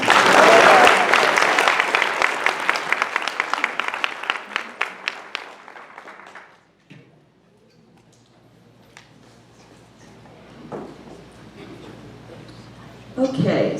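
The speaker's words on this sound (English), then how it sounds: "You may now applaud." Applause from the audience at a 2022 Atlantic Beach candidate forum starts full and steady, thins into scattered individual claps, and stops after about six seconds, leaving a quiet room with faint shuffling before a voice returns.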